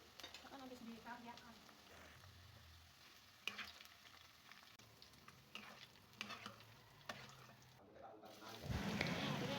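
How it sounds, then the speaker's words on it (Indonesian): Food frying in hot oil until golden brown and crispy, with a steady close sizzle and scattered clinks of stirring throughout. "Kita goreng sampai warnanya kuning kecoklatan atau sampai garing."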